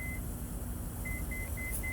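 A series of short, thin electronic door warning beeps from a 2014–2019 Toyota Highlander rear door, a few spaced pulses over a steady low engine-like hum.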